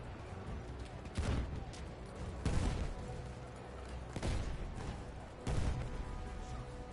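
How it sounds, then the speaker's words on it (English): Grenades burst repeatedly during a competitive first-person shooter match, four heavy booms spaced a second or two apart over a steady rumble of distant gunfire. "that was a lot of explosions. A lot of grenades coming in here."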